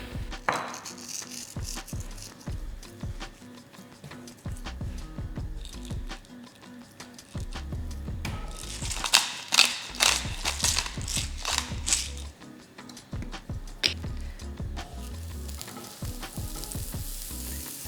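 Salt and pepper are ground onto a rack of lamb before searing, the grinder giving rapid close ratcheting clicks in repeated bursts, with a brief brighter rustle of seasoning falling partway through and no talking.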